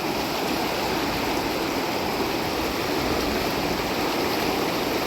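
Fast-flowing water of the Narmada river rushes in a loud, steady, unbroken roar, close by and filling the whole scene without pause.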